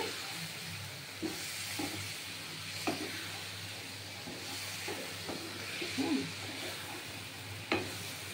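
Spices sautéed for aloo dum, a quiet steady sizzle with regular spatula scrapes and knocks against the pan, heard close but faint.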